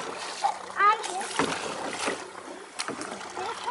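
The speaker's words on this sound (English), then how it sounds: "The motor's taking care of it right now." Small motor pushing a canoe along on an outing, a steady low drone mixed with water splashing and lapping against the hull, while people talk over it throughout.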